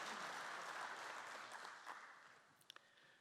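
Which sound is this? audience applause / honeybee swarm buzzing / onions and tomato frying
audience applause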